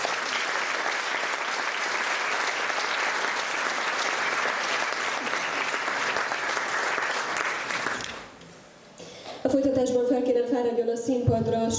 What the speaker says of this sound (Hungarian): Nagy-nagy gratuláció és taps Márton Róbertet